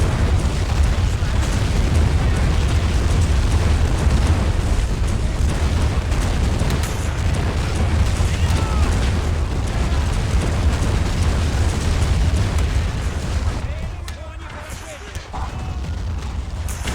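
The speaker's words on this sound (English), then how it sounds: "There's the naval artillery." Naval artillery in a Crimean War battle game at Sevastopol rumbles as dense, continuous booming explosions, loud and sustained under a narrator's voice, easing briefly near the end before resuming.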